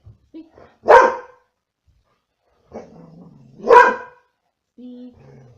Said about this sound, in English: Depends on the trigger you're using to get your dog to bark.